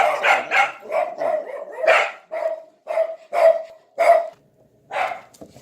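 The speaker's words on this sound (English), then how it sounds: "the dogs, they get excited whenever they hear anything" Excited dogs bark in a quick, steady series of about eight or nine loud, close, sharp barks with brief gaps between them, and no one speaks.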